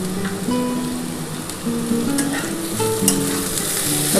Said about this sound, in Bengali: ভালো করে একটুখানি নাড়াচাড়া করে নিতে হবে